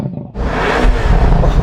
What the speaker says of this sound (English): Now it's warmed up, I'm going to give it some revs.